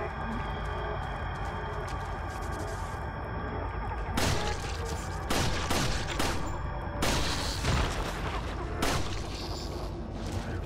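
Sharp gunshot cracks ring out in Resident Evil 4, landing as a headshot. Several distinct loud reports rise over a constant background of game ambience and music.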